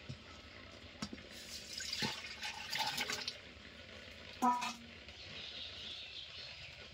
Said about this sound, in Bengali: এই সবজিগুলো সেদ্ধ করে নিচ্ছি।